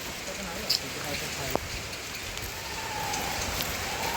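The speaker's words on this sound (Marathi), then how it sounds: "पाऊस आला रे पाऊस" Steady rain falls on a forested hillside near the Yana caves, making a dense, even hiss throughout with occasional sharper drops. Faint voices sit low in the mix.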